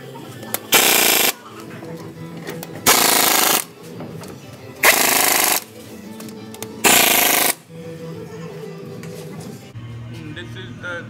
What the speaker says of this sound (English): I'm gonna install these lug nuts with the impact gun.